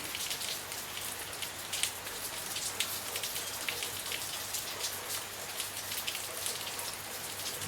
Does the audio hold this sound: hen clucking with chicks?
no